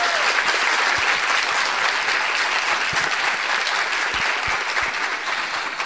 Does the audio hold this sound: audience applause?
yes